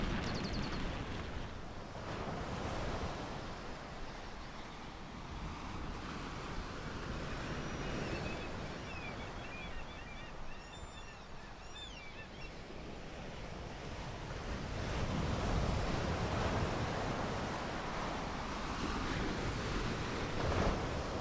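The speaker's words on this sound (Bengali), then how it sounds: "দেখো সামনেও সমুদ্র, ওই যে ওই পাশে" Sea waves at Udupi beach roll in continuously as a broad, steady wash of surf, with wind buffeting the microphone and the roar swelling slightly toward the end.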